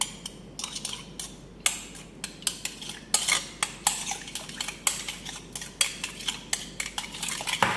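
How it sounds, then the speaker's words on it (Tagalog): Chicken is being mixed with turmeric in a bowl for Iranian tahchin, a spoon clinking and scraping in a steady run of sharp taps, close and alone with no talking. "So let's mix together."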